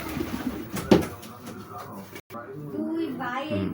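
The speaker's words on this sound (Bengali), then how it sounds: "এই হচ্ছে আমার কবুতর।" Pigeons in a pigeon house coo softly nearby, a low throaty murmur heard under a person talking, with a brief thump partway through.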